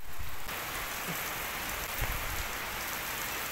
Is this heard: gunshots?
no